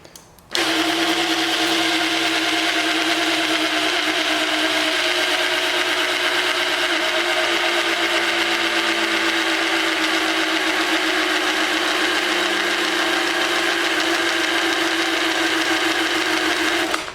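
A 1981 Pontiac Trans Am with a freshly swapped engine catches abruptly and then runs at a steady, loud, droning idle for the rest of the stretch, close up and with no talk.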